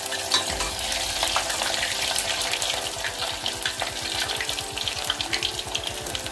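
Cauliflower pieces frying in hot oil in a pan, a loud, dense crackling sizzle with a rapid bubbling pulse throughout, heard up close without voices.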